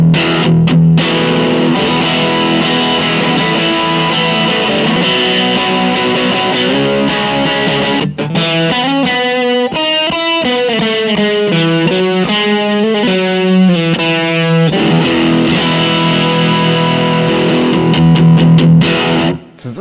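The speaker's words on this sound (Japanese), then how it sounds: "続いてはディストーション。 こちらはさっきのオーバードライブよりも歪み量が増えて迫力のある歪みが出る感じです。" An electric guitar played through a distortion pedal gives thick, heavily saturated sustained chords, then a run of fast picked notes and more held chords, loud and continuous with no talk.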